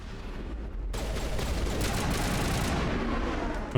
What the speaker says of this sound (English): why are you shooting at Garrus?